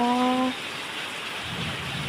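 Rain falls during a storm, a steady, even hiss that follows a brief tonal sound at the start.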